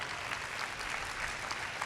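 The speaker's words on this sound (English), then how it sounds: "Yeah, clap if you want." An audience applauds at a basketball jersey retirement ceremony, a faint, steady patter of clapping heard from a distance throughout the short moment.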